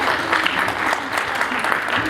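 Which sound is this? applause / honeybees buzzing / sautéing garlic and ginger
applause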